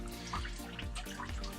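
Coolant trickles and drips steadily from a 1945 GPW jeep engine after a hose is popped off during engine removal, a continuous close wet dribble with low rumbling background.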